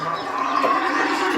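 A cow gives one loud, close, sustained moo that carries through the whole short moment, with no one talking over it.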